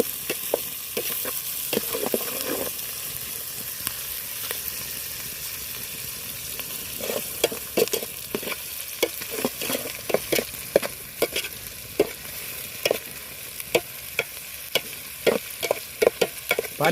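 Onions sautéing in a pan: a soft steady sizzle broken by frequent sharp scraping and clattering spatula strokes, irregular and close, with no voices.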